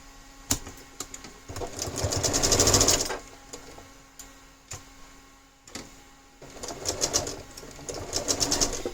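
A sewing machine runs slowly along a quilt block seam in two rattling, ticking passages, with a pause of separate clicks between them. The sound is close and fairly quiet, with no talk.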